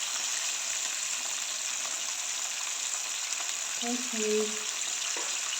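Chicken fries in hot oil with a steady, bright sizzle, while a voice briefly speaks near the end.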